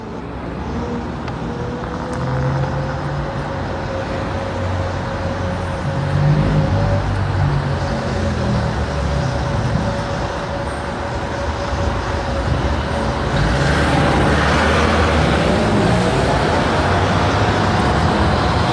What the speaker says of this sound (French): avec tout cet embouteillage, aucun problème de circulation, c'est magnifique